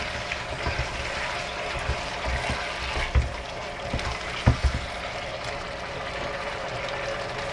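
Soy chicken with spring onion leaves is stirred in a hot pan, giving a soft bubbling simmer with scattered light taps and scrapes of the utensil, fairly quiet and with no talking.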